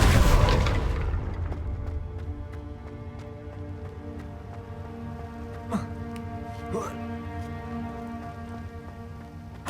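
Confringo blasting spell exploding in Hogwarts Legacy: a loud, close burst at the start that decays into a long rumbling tail, with patter and a couple of faint later impacts.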